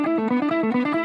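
Electric guitar with an overdriven tone, picked in a steady two-notes-per-string run with a flat, parallel pick angle; even, clean note attacks at a quick rhythm, played alone and fairly loud.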